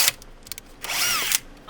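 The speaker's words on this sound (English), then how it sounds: "I'm going to just drill the pilot hole." A power drill bores a pilot hole into a 2005 Ford Mustang GT, with a few short bursts and then a longer whining run that rises and falls in pitch, loud and close.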